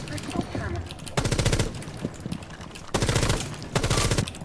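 Automatic gunfire from a video game shooting range during recoil practice: two long, loud sustained bursts of rapid shots, with quieter scattered shots and game sounds in the gaps.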